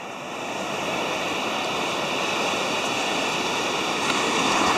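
Strong morning ocean waves at Myrtle Beach, South Carolina, near the Beach Colony Resort, give a loud, continuous roar of surf that stays steady throughout, with no voices.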